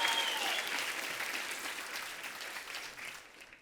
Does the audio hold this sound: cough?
no